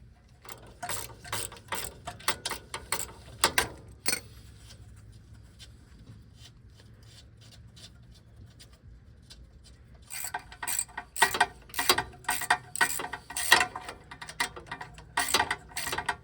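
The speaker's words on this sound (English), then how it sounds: "we're gonna go ahead and remove the 14mm bolts holding in the lower ball joint." A ratchet loosens the 14mm lower ball joint bolts on a 1996-2002 third-generation Toyota 4Runner. Bursts of quick, close clicking come in short runs, then a quieter pause, then a denser run of clicks.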